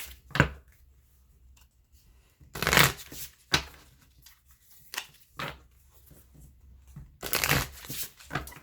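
Oracle cards being shuffled by hand, riffled in several short bursts with soft papery flutters and taps between them, close and fairly quiet, no talking.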